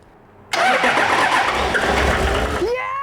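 A rebuilt engine in a 1984 Toyota Land Cruiser cranks and catches, bursting into a loud, rough idle that settles, with a rising whine near the end.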